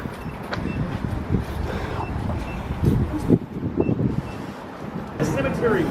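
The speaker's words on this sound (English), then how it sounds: "Who's beeping?" Electronic beeping sounds in a New Orleans cemetery, heard as a repeated tonal beep over wind noise and outdoor rumble, with people talking nearby.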